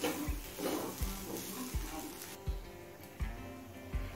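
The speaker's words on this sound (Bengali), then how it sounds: "এবার এই গ্রেভির মধ্যে জল ঝরানো গোবিন্দভোগ চালটা দিয়ে দিচ্ছি।" Drained Gobindobhog rice is tipped into sizzling prawn pulao gravy and stirred, a steady hiss and crackle broken by regular soft thumps of the spoon against the pan, close and fairly quiet.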